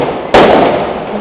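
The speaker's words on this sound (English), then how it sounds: "Whole evening you hear those big bangs and all the fireworks." A big firework bang goes off in a town at night around half past ten. One loud, sharp blast is followed by a rumbling, fading tail, and no one speaks.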